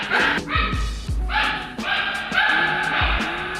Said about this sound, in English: Sorry if you can hear the puppies